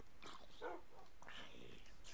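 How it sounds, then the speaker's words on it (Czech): A wolf or dog in the video game Minecraft barks in a few short bursts over steady game ambience, close and moderately loud, with a person talking alongside. "To na mě štěkáš, ty."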